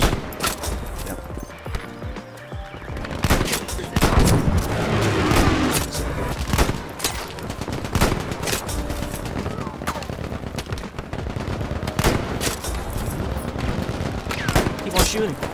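Rapid gunfire in the video game Battlefield V, repeated sharp bursts and single shots through the whole stretch, loud and close with battle noise between.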